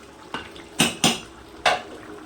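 A lid goes onto a pot of mung dal and papaya curry: four sharp metallic clinks and clatters, the middle two in quick succession, close and fairly loud over quiet kitchen background.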